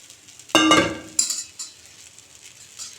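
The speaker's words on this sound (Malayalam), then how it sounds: "ഇനിയിപ്പോൾ ചെയ്യാൻ പോണത് ഈ ബാക്കിയുള്ള ഇല ചേർക്കുക" Leaves tossed into a hot pan for stir-frying: a burst of clattering and sizzle as they go in, then a second stir with scraping, fading to a soft ongoing fry.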